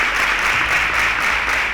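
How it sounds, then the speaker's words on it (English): Audience applause for a contestant on a school quiz show, a dense, even wash of clapping that holds steady at moderate volume for a couple of seconds. "Please a round of applause for him."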